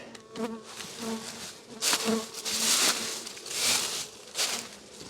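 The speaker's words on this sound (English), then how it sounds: "How do you like that for bees?" Honeybees buzz close by in fluctuating swells, individual wingbeats rising and fading as insects fly past, with soft crackling in the background and no speech.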